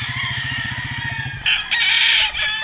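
A McLean bull stag gamefowl rooster, class AB, crows loudly and close, its long call rising and held for over a second, with rapid low clucking or wingbeat pulses before it.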